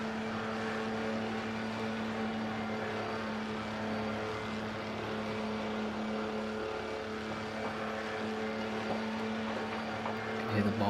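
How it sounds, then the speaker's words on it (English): Race cars at a Road America endurance race, a steady engine drone with cars passing at a distance, continuous and fairly faint, with a commentator talking over it. "let's just see cars as they make their way by."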